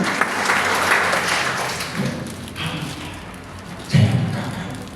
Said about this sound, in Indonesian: Berikan tepuk tangan yang beri Allah.